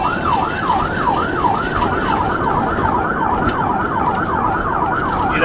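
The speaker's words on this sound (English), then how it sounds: "The double echo, the double siren." Emergency vehicle siren wailing in a steady, rapid up-and-down yelp, loud and continuous over road and traffic noise, with no talking.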